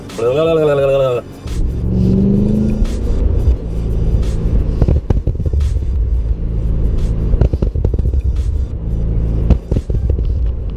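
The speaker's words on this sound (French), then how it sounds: "C'était l'échappement qui est homologué de la marque Super Sprint" A BMW 540i E34 fitted with a Super Sprint exhaust rumbles loudly up close with deep, throaty revving, alongside a brief whining tone near the start and scattered clicks, while people talk over it.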